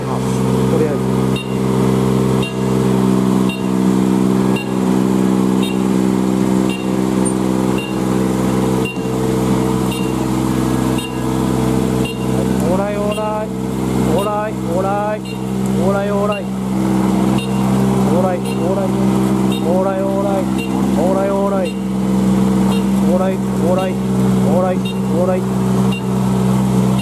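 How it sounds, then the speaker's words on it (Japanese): A loud, steady rice harvester engine drone runs throughout with constant mechanical hum and rattling, while a person talks over it in the middle. The crawler tracks are worn and close to breaking. "エンジンはかかってます。"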